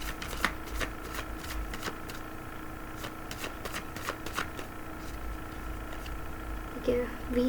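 Tarot cards are shuffled by hand in quick soft riffling bursts, close and fairly quiet, with a voice talking over them.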